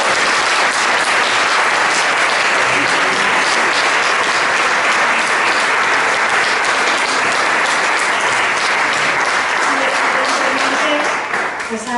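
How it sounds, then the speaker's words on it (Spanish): Loud, dense applause from a large audience at a gathering honoring San Rafael Arnáiz Barón, a steady wall of clapping that holds for the full stretch and thins slightly at the very end, with a voice faintly mixed in. "Oye, un aplauso, ¿no?"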